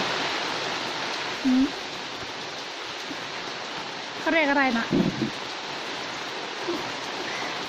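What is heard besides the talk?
rain falling outside a house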